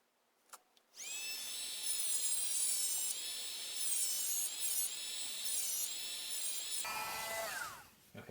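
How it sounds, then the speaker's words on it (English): A Dremel rotary tool grinds excess solder off a wiring part for a Sur Ron Light Bee electric motorbike, a close, high-pitched whine that holds for several seconds, wavers under load, then winds down. "Let me grind it first with the Dremel."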